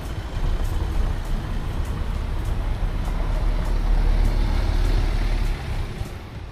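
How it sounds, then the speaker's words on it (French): Cars passing through a narrow street in a white Andalusian village, a loud, steady engine and tyre rumble close by that swells and then eases slightly near the end, with no talking. "Là, on laisse passer les voitures."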